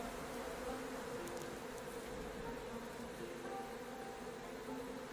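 Honeybees buzzing on a hive comb in a cottage garden, a soft continuous hum of many wings with shifting tones, fairly quiet and steady, no talking.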